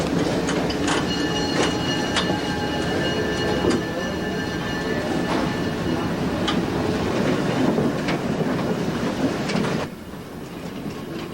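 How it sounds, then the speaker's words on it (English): The Elko 5 locomotive idles at a rail junction in the Adirondacks, a steady, loud diesel rumble with occasional metallic clanks and ticks that drops slightly quieter near the end. "Elko 5 idled patiently as safety checks were made prior to the trip"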